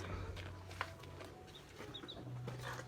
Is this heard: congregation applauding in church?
no